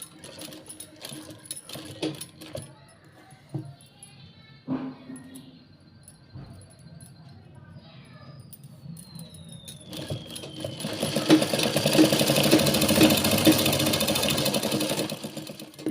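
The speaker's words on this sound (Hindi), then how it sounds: "तो जी यहाँ देखिए अब इसको सिलाई लगा देंगे" Sewing machine stitching a fold of fabric for a sharara, quiet handling and clicks at first, then a sustained, rapid mechanical whir that builds near the end and runs close to the listener.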